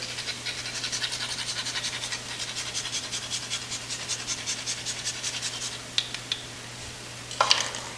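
A small grater scraping a whole nutmeg: rapid, even rasping strokes repeat close by, then stop, and a few light clicks and taps follow.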